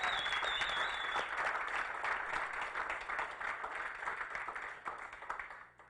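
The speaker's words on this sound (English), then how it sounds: "another round of applause for Tim" An audience at an award nominee announcement applauds, dense steady clapping that fades gradually toward the end, with a faint whistle early on.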